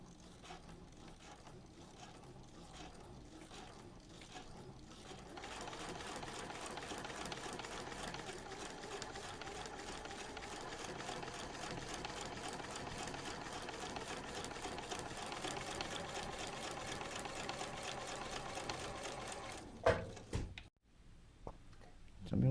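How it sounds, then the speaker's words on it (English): A sewing machine stitches fabric in a rapid, steady mechanical whir for about fifteen seconds, close and moderately loud, preceded by softer handling sounds and ending with a few clicks and a thump. "Come to the sewing machine."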